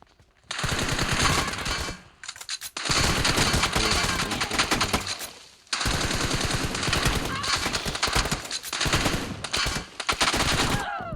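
Rapid bursts of automatic gunfire from a team deathmatch video game, loud and dense, arriving in three long volleys separated by brief pauses.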